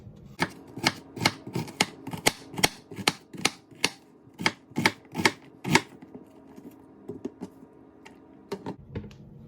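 Knife chopping an onion into uniform pieces on a cutting board, a steady run of crisp, close taps at an even rhythm that loosens into a few scattered cuts near the end.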